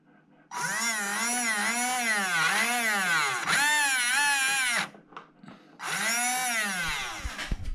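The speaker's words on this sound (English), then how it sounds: "So the motor works fine, but the axles are not moving." The electric motor of a Tamiya Lunch Box CW-01 RC car whines in its gearbox, which has a loose or misaligned pinion. The pitch rises and falls in a wavering cycle over two long runs separated by a short pause.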